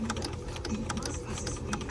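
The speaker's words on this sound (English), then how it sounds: "now the machine should go one stitch and one miss" A Bernina 1230 sewing machine runs a steady, close mechanical stitching rhythm, with rapid repeating clicks from its moving parts, heard alone.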